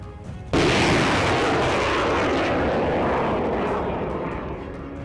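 An M270 MLRS fires rockets: a sudden, loud blast becomes a sustained roaring rush that slowly fades over several seconds.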